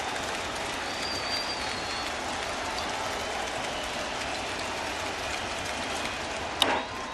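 A baseball crowd at Yankee Stadium builds with each pitch in the 3rd inning of a Rays–Yankees game. The steady, distant roar of thousands of fans fills the air, with one sharp clack near the end.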